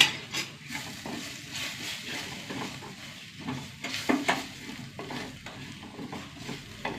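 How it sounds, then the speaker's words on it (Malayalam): Ground coriander, chili powder, garam masala and black pepper frying in a pan, a steady close sizzle broken by scraping stirs and occasional light clinks of a spoon against the metal. "പൊടികളൊക്കെ മൂത്ത് വന്നിട്ടാ."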